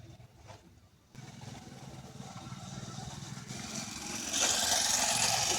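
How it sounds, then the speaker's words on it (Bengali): A motorcycle goes by on a road outside, its low engine drone rising steadily and growing louder toward the end, heard at a moderate distance with faint background noise. "আবার মোটর সাইকেল যাচ্ছে"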